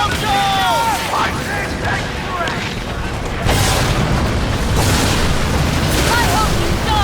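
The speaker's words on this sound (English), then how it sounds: "Mortar coming in." Mortar shells explode during ship combat in Skull and Bones, with heavy booming blasts and rumbling mixed with battle noise and whistling effects, while a person talks over the action.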